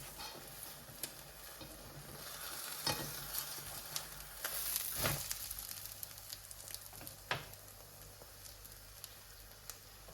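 Lavash and egg sizzle steadily in a hot frying pan, a quiet continuous crackle with occasional sharper pops and a brief scrape partway through.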